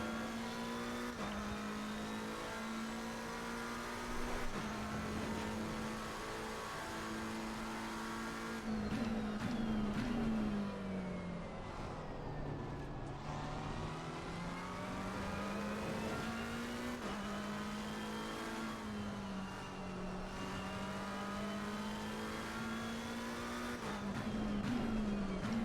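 Big V8 GT race car engines in the Assetto Corsa Competizione racing game hold a continuous droning roar, rising and falling through gear changes and revs, with faint tyre noise.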